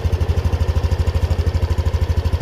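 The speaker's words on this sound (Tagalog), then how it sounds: "Tapos ganito tunog na makina nyan." A Yamaha NMAX 155 scooter with about 33,600 km on it idles up close, its engine giving off a steady, even low pulsing throb with no talk over it.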